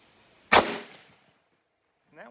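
A single sharp, loud rifle shot from a 1940 Gustloff Werke Kar98 Mauser fired at 100 yards outdoors, with a quick decaying echo, followed by a brief voice at the end.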